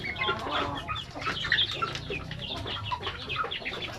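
A flock of native chickens clucking and chirping together at close range, a busy continuous chatter of overlapping calls with a few louder squawks, no one speaking.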